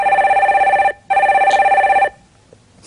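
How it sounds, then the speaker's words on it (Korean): Telephone ringing on a call-in stock market broadcast as a caller is connected: two loud, sustained electronic ring bursts separated by a short gap, then silence. "전화 연결해 주세요"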